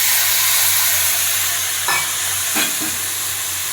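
Chopped tomatoes hitting a hot pan of frying capsicum for chilli parotta, a steady broad sizzle with a couple of short stirring scrapes near the end.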